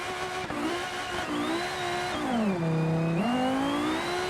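Racing game car engine revving hard with turbo boost building, a steady whining tone that climbs, dips and rises again with shifts, continuous and close with no talk.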